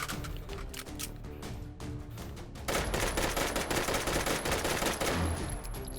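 A submachine gun rattles off rapid bursts in a video game, rough crackling fire that gets louder and denser partway through.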